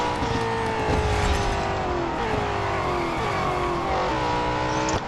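A 2018 Holden Commodore ZB races in the video game Real Racing 3, its engine revving loudly and continuously with rising pitch sweeps and gear changes as it powers through a final set of corners.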